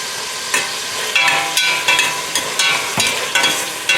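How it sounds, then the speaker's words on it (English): Onion softens in hot cooking oil with ginger and garlic, crackling in a steady sizzle, while a spoon stirs and scrapes the pan in a regular rhythm. The sound is close and fairly loud, with no voices. "We're gonna soften the onion."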